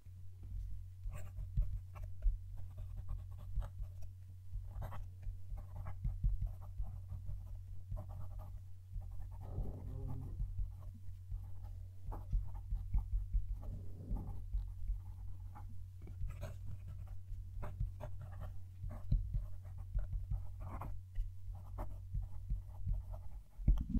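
A Pilot fountain pen nib writing a sentence on paper, miked close: soft continuous scratching strokes with brief pauses between words, faint and alone over a low steady hum.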